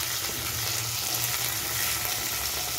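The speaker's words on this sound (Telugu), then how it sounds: "ఎండుమిరపకాయలు, కొంచెం వేగిన తర్వాత" Dried red chillies fry in hot oil with a steady, dense sizzle that holds at an even level throughout, close and continuous, with no voices.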